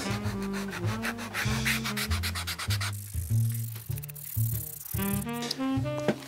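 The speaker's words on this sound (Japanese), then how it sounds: "サンドペーパーの番手をね細かくしていきながらこの底面の傷をなくしてきれいにしています" Sandpaper rubbing across the leather sole of a handmade bespoke shoe, close and steady, in quick back-and-forth strokes with a scratchy, rhythmic rasp and no talking.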